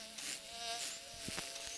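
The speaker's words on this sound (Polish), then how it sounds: "ta mała pszczoła wleciała." A small insect buzzes close by, a thin wavering drone that rises and falls as it moves around.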